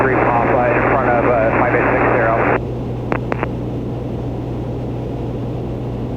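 A Piper Comanche engine drones in flight as a steady, loud, low rumble throughout, with radio talk over it for the first part and brief clicks after.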